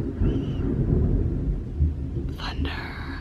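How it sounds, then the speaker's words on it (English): Thunder from a storm rolls as a low, sustained rumble, moderately loud and drawn out, with a soft voice murmuring briefly near the end. "Thunder. Yeah, we're getting hit with a storm right now"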